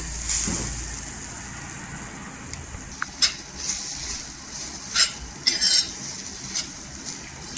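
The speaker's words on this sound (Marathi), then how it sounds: "म्हणून छान असं ते परतून घ्यायचं स्लो गॅसवर" Peanuts frying on slow gas give a soft, faint sizzle, broken by several sharp scrapes and clinks of a spoon stirring the pan.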